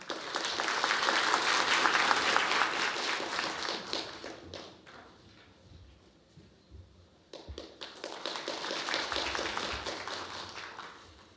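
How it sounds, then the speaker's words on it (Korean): An audience at a humanities academy opening ceremony in the Korean National Assembly applauds to welcome a speaker. Two full bursts of steady clapping are separated by a quieter lull with a few scattered claps, fairly soft overall. "큰 박수로 맞아주시기 바랍니다"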